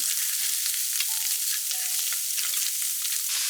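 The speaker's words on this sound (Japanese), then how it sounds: "フライパンで焼きます。 舞茸も加えて炒めたら、" Maitake mushrooms stir-frying in a frying pan, a steady loud sizzle with crackling spits throughout, no voices.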